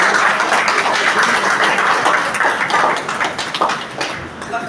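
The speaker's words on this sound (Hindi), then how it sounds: "उनका सम्मान तालियों के गड़गड़ाहट के साथ हो।" Crowd applause greets a guest called to the stage at a flag-hoisting and lamp-lighting ceremony, a dense, steady wash of many hands clapping at close range that holds for several seconds and thins slightly toward the end.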